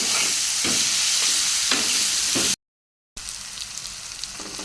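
Ginger garlic paste frying in a pan gives a loud, continuous sizzle with stirring scrapes. A brief silent gap breaks it near the end before the frying resumes.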